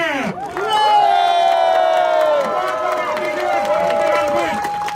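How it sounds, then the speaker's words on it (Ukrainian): Crowd at a workplace sports-games award ceremony cheering and shouting as cups are presented, loud and sustained, with voices calling out over the noise. "Под ваши бурные аплодисменты!"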